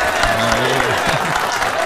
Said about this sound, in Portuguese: bata palmas para esse homem